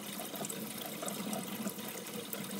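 A paintbrush is rinsed under a running tap, the water hissing and splashing steadily and softly throughout, with no voices.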